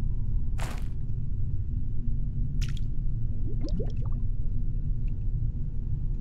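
A player going under water in the game Planet Crafter, heard as a muffled low underwater rumble with a couple of splashy bursts and bubbling gurgles, fairly close and with no talking.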